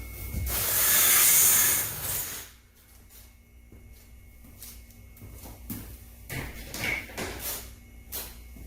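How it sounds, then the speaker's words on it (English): Granular cat litter (Purina Tidy Cats La-Di-Da 4-in-1 strength) poured into a litter box, a loud rushing hiss at first, then quieter intermittent shakes and scatters of grains. "I'm going to put on top of this a little bit of the really nice cat litter for odor control"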